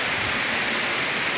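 Steady, dense roar of a waterfall near Muzaffarabad, Azad Kashmir, a loud unbroken rush of falling water heard up close with no other sounds.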